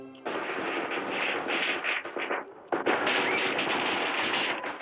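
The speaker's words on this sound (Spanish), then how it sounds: "Siempre queman cohetes cuando regreso a casa." Fireworks rockets set off in a film scene, a dense crackling barrage of rapid bangs and pops that carries on almost without pause, with a short lull partway through before the volley resumes loudly.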